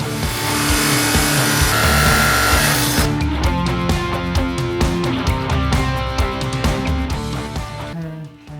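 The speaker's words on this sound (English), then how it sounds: "I'm going to sand it down" A Damascus steel billet is sanded down with a loud, continuous abrasive grinding rush that changes pitch partway through, then fades near the end.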